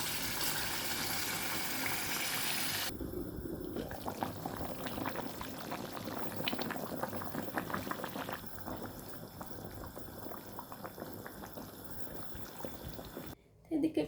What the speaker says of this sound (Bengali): এখন জলটা দিয়ে নিলাম।